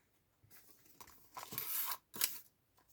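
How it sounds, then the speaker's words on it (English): Layers of brown envelope paper are cut with a few short, crisp rasping strokes, close and quiet, with pauses between them. "I'm gonna cut it off, that inside, and I will try to cut it off straight away from all those layers"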